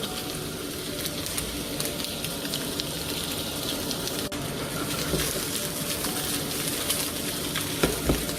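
Shallots, ginger and garlic fry in a pan for stewed pork belly, a dense, steady close-up sizzle and crackle with faint stirring scrapes and a couple of sharper pops near the end, no voices.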